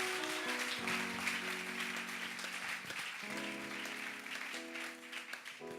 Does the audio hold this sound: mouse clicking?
no